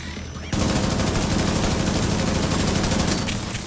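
Sustained automatic gunfire in The Division 2, a dense rapid burst of shots that kicks in suddenly after a quiet moment and hammers on loudly for about three seconds before easing.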